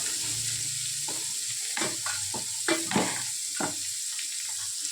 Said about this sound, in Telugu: బాగా వేసి ఆ నూనె, పచ్చడి బాగా కలపాలండి.